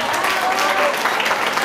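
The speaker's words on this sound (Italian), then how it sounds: "facciamo un applauso" A studio audience at a pasta cooking show breaks into loud, dense applause that holds steady for a moment.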